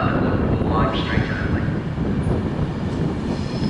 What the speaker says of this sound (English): The train approaching platform number three